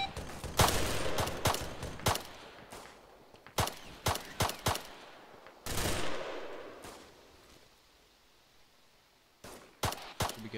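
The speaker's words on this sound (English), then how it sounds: "I'm gonna take some shots from this position now." A player's rifle fires in a military video game: sharp, close shots in irregular single cracks and short bursts, with gaps of quieter ambience between them and a denser volley near the end.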